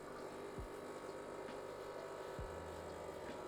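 Home espresso machine pumping out a shot: a steady droning pump hum with a faint buzz, continuous and close, with no talk.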